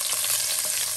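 Garlic sautéing over lowered heat in a pan, a dense, steady sizzle with faint stirring scrapes running without pause throughout the short stretch.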